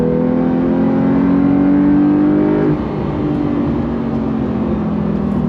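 A 2025 Porsche 911 Carrera T sports car with twin turbos, its engine heard up close in a steady loud drone with rising harmonic tones that drop abruptly midway as the revs fall, then continue at a lower pitch, no talk.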